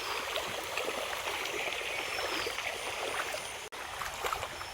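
Floodwater running through rice fields after the water rose overnight, a steady broadband rush and gurgle that continues without pause, close and even.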